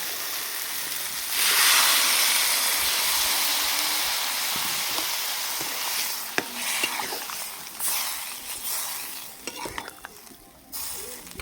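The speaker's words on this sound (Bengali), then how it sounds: "এবার এর মধ্যে দিয়ে দেবো জল" Water poured into a pan of sizzling soybean masala sets off a loud burst of hissing steam and sizzle, which settles into steady frying with stirring and scraping clatter.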